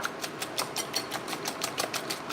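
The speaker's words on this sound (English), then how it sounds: "And then I'm just whisking this." Cottage cheese waffle batter being whisked in a bowl, a quick steady rhythm of soft scraping strokes, close and moderately loud with no talk.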